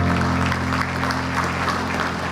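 Audience applause at a veterans' department convention, a steady, full round of clapping from a crowd in a hall, sustained throughout.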